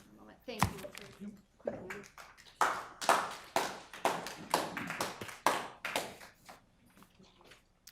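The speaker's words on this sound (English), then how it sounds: "We shouldn't be applauding that" Scattered, uneven hand claps from a few people in a Des Moines council chamber after a vote, sharp individual smacks spaced irregularly, fairly quiet and petering out.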